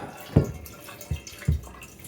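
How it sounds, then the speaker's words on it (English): Water dripping from a loosened dishwasher drain line under a kitchen sink: three separate, fairly soft drips spaced unevenly, each a short low splat, with no talk. "See how much water we lose here. This is the dishwasher drain."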